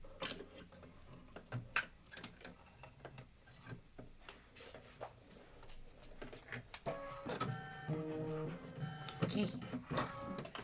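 An embroidery machine stitches a white spider web detail in a rapid, rattling needle rhythm, fairly faint at first and growing busier, with a short spoken word over it.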